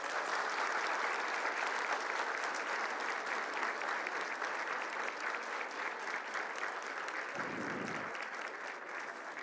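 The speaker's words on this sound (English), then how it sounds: "Give them a round of applause." A large crowd at a college convocation ceremony claps steadily and densely, sustained applause filling the hall from start to finish at a moderate distance.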